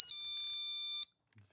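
A VOXON door and window alarm gives one loud, piercing electronic tone lasting about a second, then stops abruptly, leaving quiet.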